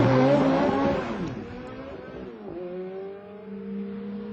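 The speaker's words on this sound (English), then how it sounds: "Push this button and a bunch of sophisticated electronics gives you a red-hot start" A sports car makes a launch-control start, its engine revving hard and loud at first, then the tone settles into a steadier, fading drone as it pulls away.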